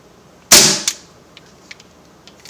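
A CO2-powered gun fires into a laptop: one sharp, loud crack, then a quieter second shot just after, then a few faint ticks and clicks.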